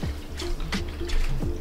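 Freshly separated buttermilk pours from a churned butter mixture into a separate container, a close liquid gurgle and splash with a few sloshing surges, heard alone with no talking.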